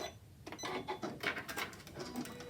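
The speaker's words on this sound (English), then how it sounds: "My S9 is going through all of these layers of cork with no issues." A Janome S9 sewing machine stitches through several stacked layers of cork, giving a fast, steady run of close mechanical clicks and whirring, heard up close with no talking.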